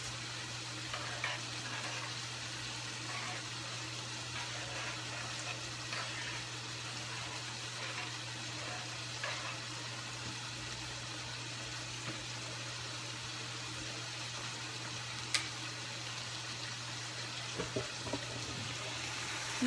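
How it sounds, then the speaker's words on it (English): Cajun shrimp pasta sauce simmering toward a boil in a pan, with a steady continuous sizzle and bubbling hiss, a few faint clinks and scrapes along the way and no talk. "Stir it all up and make it come to a boil first."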